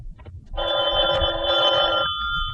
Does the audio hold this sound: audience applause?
no